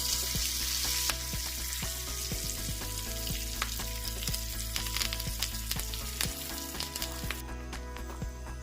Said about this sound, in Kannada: ಮಾಡಿರೋಂಥ ಒಗ್ಗರಣೆನ ನಾನು ಇದ್ರ ಜೊತೆ ಸೇರಿಸ್ಕೊತಾ ಇದ್ದೀನಿ.